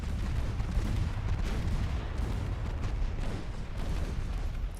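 Heavy naval gunfire from warships in Ultimate Admiral Dreadnoughts, a dense, steady roar of booming shots and rumbling blasts that carries loudly and continuously throughout with no talk.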